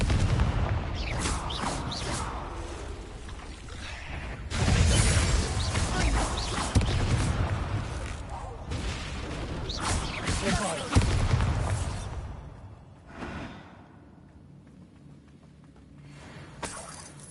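Confringo fire spell bursts in Hogwarts Legacy combat, a run of loud booms, crashes and shattering impacts that rise and fall over several seconds before fading to quieter rumbles.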